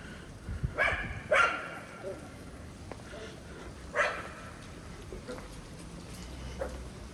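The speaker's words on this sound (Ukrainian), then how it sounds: "І тут собак куча." A few distant dog barks ring out in short separate bursts over a low steady outdoor hum.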